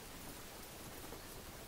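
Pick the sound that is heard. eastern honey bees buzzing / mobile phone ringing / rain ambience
rain ambience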